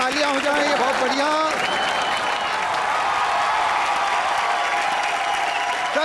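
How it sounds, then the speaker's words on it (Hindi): Studio audience at a live Indian TV comedy show claps steadily and loudly for several seconds, with cheering mixed in and voices carrying over the applause. "जोरदार तालियां हो जाएं"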